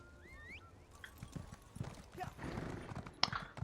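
Horse hooves clip-clopping in Elder Scrolls Online Greymoor in a Skyrim setting, a soft, uneven patter of steps mixed with game ambience and faint whistling tones, quiet throughout.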